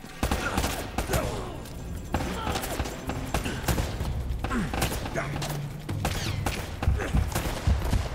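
Gunfire in Uncharted: Drake's Fortune, with repeated sharp shots and bursts scattered across the whole stretch, fairly loud, mixed with thuds and game effects.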